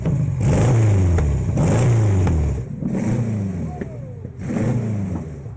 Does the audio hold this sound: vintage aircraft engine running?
yes